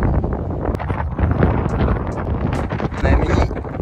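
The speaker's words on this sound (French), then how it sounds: "Il y a trop de vent" Strong wind buffets the microphone outdoors on a hike, a continuous loud rumbling roar with gusty bursts and no clear speech.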